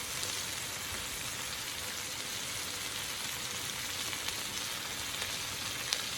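Chopped broccolini and shallots cook together in a pot, making a steady, soft, even sizzle that hisses on without a break.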